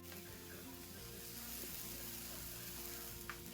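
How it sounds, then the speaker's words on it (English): Pancake batter sizzles and crackles on a hot griddle, a steady hissing fry at moderate volume with a faint clink near the end. "hear that sizzle?"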